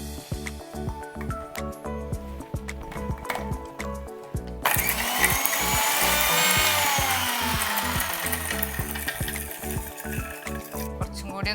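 A mixer grinder jar grinds banana stem with ginger, cumin, salt and a little water, its steady whirring motor starting partway through and running loud and continuous, with rhythmic kitchen clatter before it.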